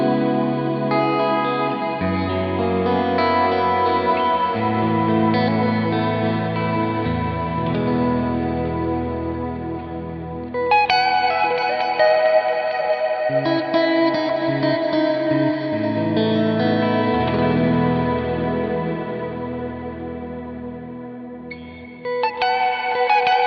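Electric guitar through the reverb effect of a Neural DSP Quad Cortex, chords ringing out with a long, lush ambient wash and echo, loud and continuous for the whole passage with no talking.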